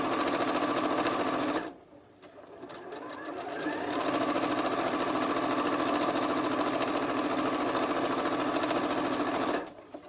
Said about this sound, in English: sew along the next panel, again using that 1/4 inch seam allowance